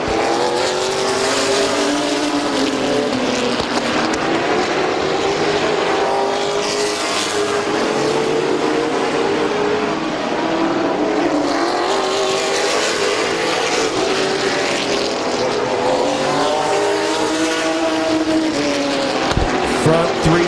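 Racing trucks roar around a dirt oval at Midvale Speedway, a dense, continuous engine drone with rising and falling pitch as the pack runs nose to tail, loud and steady for the whole stretch, with an announcer talking over it.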